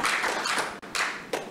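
Audience applause at a book launch ceremony honouring award recipients: brief, loud bursts of clapping with a short gap in the middle, heard close and without speech.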